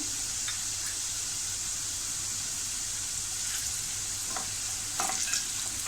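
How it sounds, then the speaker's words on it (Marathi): Malvani masala fries in a pan and is stirred, making a continuous close, loud sizzle with occasional scraping strokes of the spoon throughout. "मी 2 चमचे मालवणी मसाला टाकला आहे."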